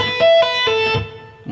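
Electric guitar tapping phrase spanning two beats from a 90s-style intro: a few quick plucked and hammered notes with sustained ringing tones, played alone and close.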